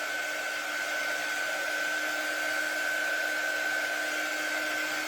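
A hair dryer-style heat tool runs steadily and loudly throughout, a constant whirring blow with a high whine, drying glued painted letters on a wooden Hugs & Kisses shelf sitter.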